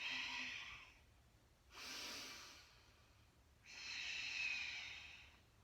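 Slow, steady exhalations from a person during a yoga exercise, breathed out through the nose or mouth in three soft airy hisses, close and fairly quiet, with no speech.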